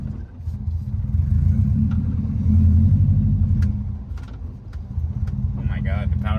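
A Subaru Impreza WRX STI bugeye on its first drive gives a deep, steady engine and road rumble from inside the cabin, swelling slightly mid-way, with brief voices near the end.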